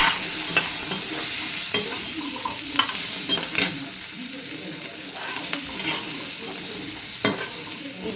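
Onions sizzling in oil in a pan, stirred as they soften, with a constant frying hiss and occasional utensil scrapes and taps, close and steady with no talking.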